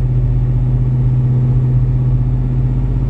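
A 1961 Ford Fairlane 500's engine runs close and loud, a steady low mechanical drone with no break and no voices over it.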